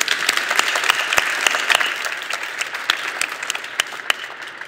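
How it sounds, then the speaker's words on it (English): An audience at a talk on Europe breaks into loud, close applause, many hands clapping densely with sharp individual claps standing out for several seconds. "Let's give them an applause for that."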